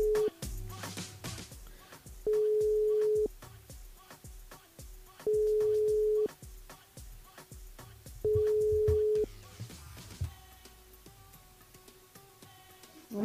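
Telephone line tones on a live radio call-in show: three long, steady ringback tones, each about a second, alternate with music and talk. They give way to a connecting line.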